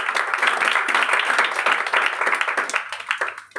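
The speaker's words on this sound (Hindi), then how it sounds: "बड़ा खूबसूरत वचन को जोरदार ताली मारा" Applause from a church congregation after a sermon, a short burst of clapping from a small crowd that tails off and thins out near the end.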